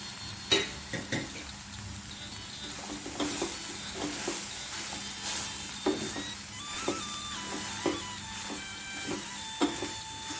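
Chopped tomatoes fry in oil for a soya chunks curry, a quiet steady sizzle broken by frequent clicks and light utensil taps, close but faint.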